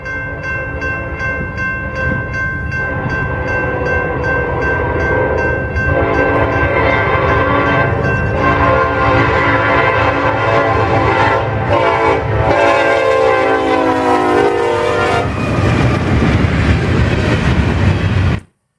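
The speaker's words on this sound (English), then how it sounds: "Our first train of the 13th of March was a Union Pacific grain train with a Thunder cab leading." A Union Pacific grain train with a Thunder cab in the lead rolls by in Girard, Illinois, loud and close, its horn sounding steady tones over the continuous rumble and clatter of railcars for the whole stretch before cutting off abruptly.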